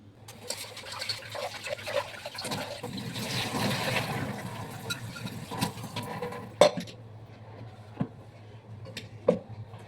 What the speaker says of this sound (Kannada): ನಾನೀಗ ತೊಗರಿಬೇಳೆ ಹಾಕಿದ್ದೀನಿ